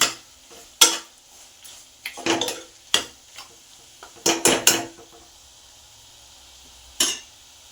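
Mutton curry stirred in a pan with a metal spoon: a dozen or so sharp scraping clinks in irregular bursts, close and fairly loud, over a faint sizzle.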